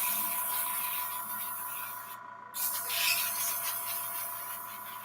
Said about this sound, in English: if you're familiar with spray painting at all